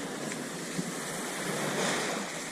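Surf washes onto a beach in a continuous hiss with a soft swell near the end, mixed with light wind on the microphone and no speech.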